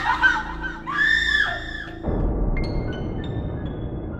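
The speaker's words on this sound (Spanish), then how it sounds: "De pronto escuchamos un grito que venía de la otra casa de campaña." A horror-story scream rings out from a neighbouring tent at a campsite, a loud, shrill cry lasting about two seconds that then cuts off into a steady low rumble of background noise.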